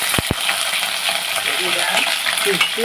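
Chillies tossed into hot oil for a home-style curry, a steady broadband sizzle running throughout with two sharp clicks near the start and light utensil scrapes.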